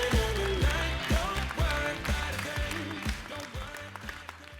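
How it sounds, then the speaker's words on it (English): An audience at a business event gives a round of applause, dense clapping that swells and then thins out over several seconds, with background music running beneath it. "Can we please give them a round of applause because they deserve it?"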